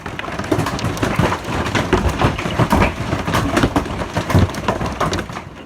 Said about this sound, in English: That is the sound of golf ball-sized hail.